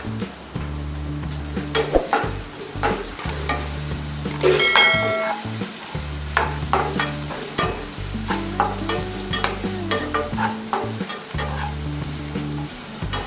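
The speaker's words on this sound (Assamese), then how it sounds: "আলুখিনি প্ৰায় অকণমান ভাজি ল'ব লাগিব।" Diced potatoes frying and stirred in a pan with salt, for an Assamese bamboo shoot dish; steady sizzle with repeated scraping strokes of a spoon against the pan, close and clear, no talk.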